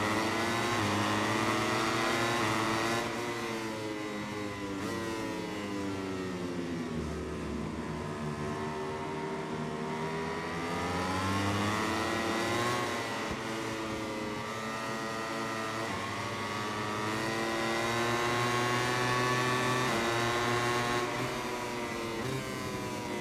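Racing motorcycle engine in MotoGP 21 at the Mugello circuit, screaming loud and continuous with its pitch climbing and dropping through gear changes, alone with no talk.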